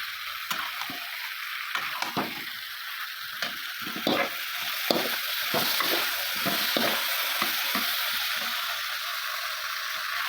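Meat and potatoes stir-fry in a pan for a home-cooked curry, a constant sizzle broken by repeated rhythmic scrapes and knocks of a spatula against the pan, close and without speech.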